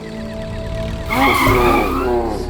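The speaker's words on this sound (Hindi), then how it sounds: "ब्रेक क्यों लगा इतनी जोर से?" A car brakes hard on a road with a loud, close, drawn-out tire squeal and skid rising over a steady engine hum, in a scene from a crime drama series.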